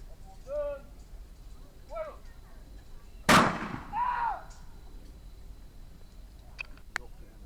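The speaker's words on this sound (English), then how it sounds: "This is a demonstration of firing a matchlock rifle." A matchlock rifle goes off once in a historical firing demonstration outdoors at St. Augustine, Florida, giving a single sharp crack with a short rumbling tail. Birds chirp faintly before and after the shot.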